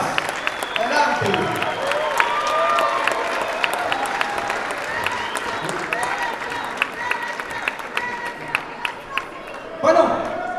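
A crowd at a Nuevas Ideas party gathering in Los Angeles applauds, steady clapping and cheering filling the room throughout, swelling briefly near the end.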